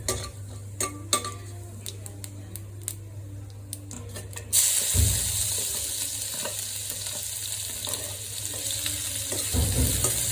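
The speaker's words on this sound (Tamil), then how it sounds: "இது நல்லா எண்ணெயில் வதக்கிக்கணும்." Garlic, ginger and cumin are frying in hot oil in a pan for kadai paneer masala. A few clinks of stirring come first, then a steady loud sizzle takes over and continues with occasional stirring.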